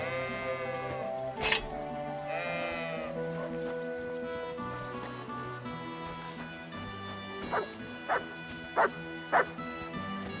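A dog in the medieval role-playing game Kingdom Come: Deliverance II barks in a handful of sharp yelps, one early and a quick run of four later, over a continuous bed of game music and bleating farm-animal sounds.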